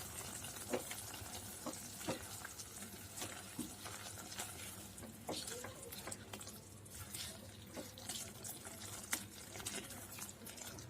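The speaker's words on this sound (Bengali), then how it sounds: "এবার ভালো করে সব মশলাগুলো মিশিয়ে দেব।" Cumin powder and ginger paste are stirred into paneer and pointed gourd in a pan, with soft, irregular spoon scrapes and taps over a quiet, low sizzle.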